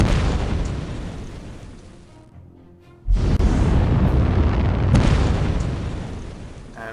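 Missiles exploding in the naval warfare game Modern Air Naval Operations, loud roaring blasts that fade for a moment, then slam back in with a sudden heavy boom and a long sustained rumble.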